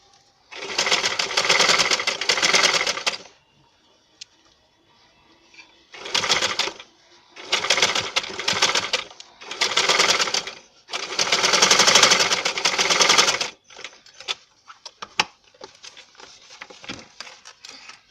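A sewing machine stitches elastic onto the back waistband of palazzo pants, running in loud, fast bursts of several seconds each, separated by quiet pauses and light handling sounds.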